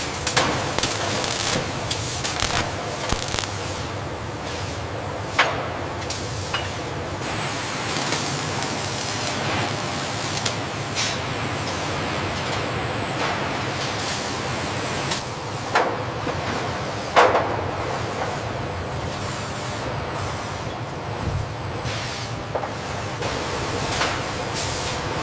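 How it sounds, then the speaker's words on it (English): Machines weld an Aston Martin vehicle structure in a factory, giving a continuous loud hiss and industrial drone broken by scattered sharp clanks and bangs. "Machines are welding the vehicle structure to give it a perfect shape."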